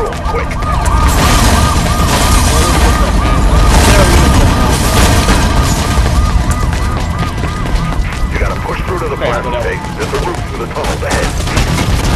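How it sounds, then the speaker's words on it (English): Gunfire in the video game Mirror's Edge, with loud bursts and booms running under a wailing police siren while a voice speaks over the noise. "Oh god, they're still shooting"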